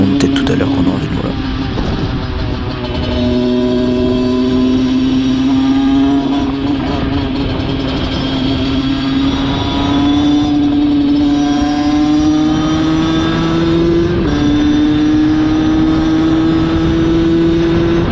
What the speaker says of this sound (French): vous entendrez un petit peu le bruit de la moto